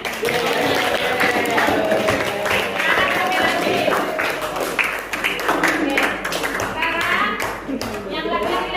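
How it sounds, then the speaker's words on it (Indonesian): Classroom group clapping hands together in a coding lesson, a dense run of claps close by, with children's voices talking throughout. "Tepuk tangan."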